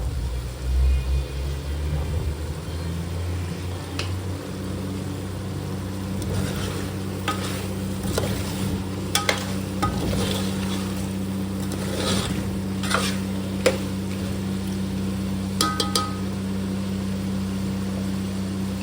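Chicken curry simmers and sizzles in a pan after garam masala is added, with steady frying hiss, a low rumble, and occasional scraping stirs, heard alone without talk.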